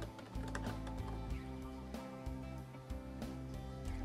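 Someone types on a computer keyboard while editing in the Vi text editor, producing faint, irregular key clicks over a steady low electrical hum.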